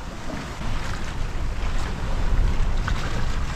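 A sailboat under way on the open sea off New Zealand, with steady wind buffeting the microphone and continuous rushing water and waves, loud and close throughout with no talk.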